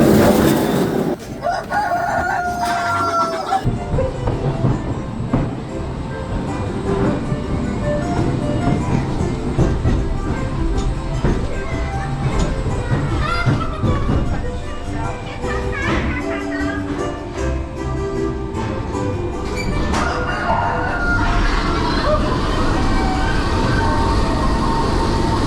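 Near a chicken coop at a theme park, a rooster crows amid loud, busy background noise and crowd sounds, with repeated calls over a long, dense stretch.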